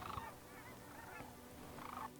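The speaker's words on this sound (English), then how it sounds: "some cranes right there" Sandhill cranes, with some lesser cranes, calling in flight over a decoy spread during a crane hunt: rolling, bugling calls come in a few separate bursts, fairly close and clear, with no talk.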